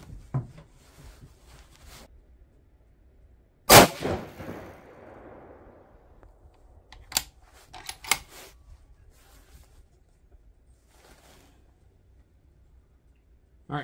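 A 6.5 PRC rifle firing 130gr ELD-M loads over H4831SC powder lets off one sharp, loud shot with a rolling decay, followed by scattered lighter clicks and knocks in a quiet outdoor setting.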